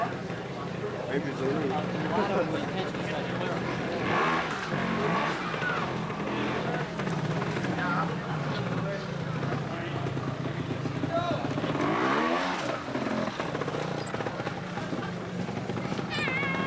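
An observed trials motorcycle at a 1990 world championship round in Globe, Arizona, working through a loose gully of huge rocks; the engine drones and revs steadily throughout, with a commentator talking over it.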